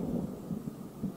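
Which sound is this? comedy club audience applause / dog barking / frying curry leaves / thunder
thunder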